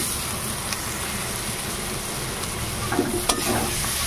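Small shrimp fry with cumin and coriander powder in a pan for a potato and pointed gourd curry, giving a steady close sizzle with a few soft stirring scrapes and clinks near the end.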